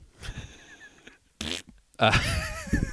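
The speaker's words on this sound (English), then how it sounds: "Fart noise." A comedic fart noise on a talk show. A short burst comes first, then a louder buzzing, wobbling stretch with voices around it.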